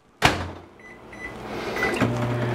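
A countertop microwave oven starts up after a door clunk, settling into a steady low hum with a faint fan whir that continues for a couple of seconds, with a second click partway through while an egg salad is being made.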